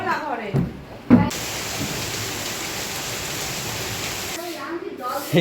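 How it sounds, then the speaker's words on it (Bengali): Heavy rain pours down in a steady hiss for several seconds, with brief voices before and after the downpour. "এই বৃষ্টি শুরু হয়ে গেছে"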